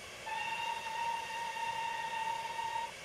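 Steam whistle of a Raven A2 locomotive in Train Simulator 2019, a single shrill, steady tone held for about two and a half seconds, clear and alone over faint hiss.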